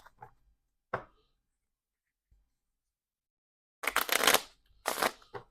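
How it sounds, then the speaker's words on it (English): Playing cards being shuffled at a tabletop game, a couple of soft brief riffles and taps separated by silence, then two louder, longer shuffling bursts near the end. "So I'm just going to shuffle a few times here."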